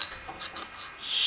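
A straight razor drawn in figure-eight strokes across a Japanese honyama natural whetstone gives soft, close scraping and rasping swishes that swell and fade, loudest near the end, with no voices.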